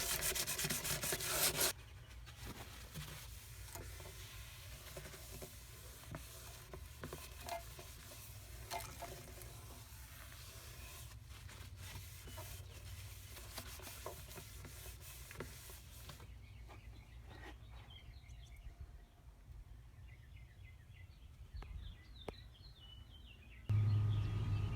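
Steady rubbing of Meguiar's Ultra Cut polish on chrome trim of a Duster 360, a continuous soft scrubbing texture that runs at an even level throughout, with no voices.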